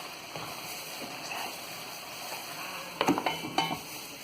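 Beef simmering in a pan on a stovetop, a steady low sizzle with a few sharp metallic scrapes and clanks of a utensil against the pan near the end.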